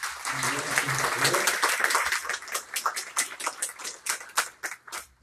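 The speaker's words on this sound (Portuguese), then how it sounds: "uma salva de palmas gentilmente a Adriana" An audience at a university panel event applauds a speaker, a dense burst of many hands clapping that thins into scattered individual claps over about five seconds.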